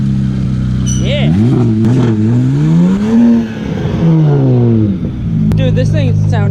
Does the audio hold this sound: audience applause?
no